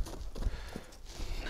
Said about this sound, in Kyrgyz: 13 жаштагы арап жылкысы.